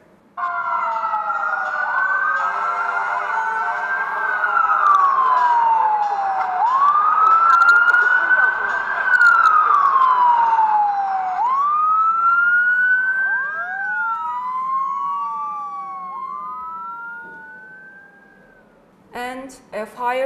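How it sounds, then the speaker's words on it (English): A loud fire engine siren wails close by, sweeping up and down in long rising and falling tones with a quicker yelp near the end. "Fire engine"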